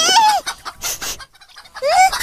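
A chicken being caught squawks and clucks loudly and close, with a rising squawk, a burst of agitated clucks, a brief pause, then another squawk.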